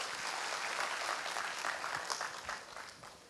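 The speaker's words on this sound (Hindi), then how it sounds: "इस पहल के लिए आप सभी ज़ोरदार तालियां बजाएं।" An audience applauds in a hall during a Sant Kabir Nagar development discussion, with a dense, steady wash of many hands clapping at moderate distance that eases off slightly at the close.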